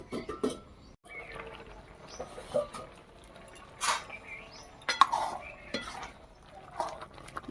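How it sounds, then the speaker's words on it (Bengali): A pot lid lifted and tomatoes stirred in a pot, with scattered clinks and metallic scrapes of utensil against cookware, sparse and close, with no talking. "আমি একবার করে ঢাকাটা খুলে নেড়ে নেবো যাতে টমেটোটা তলাতে বসে না যায়"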